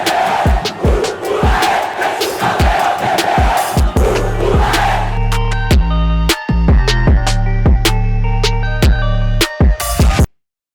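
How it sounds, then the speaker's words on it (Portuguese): Vasco football fans roar and chant loudly in unison, with heavy drum beats pounding at a steady rhythm through the crowd noise, close and loud throughout before cutting off abruptly at the end. "Essa torcida é fora do comum"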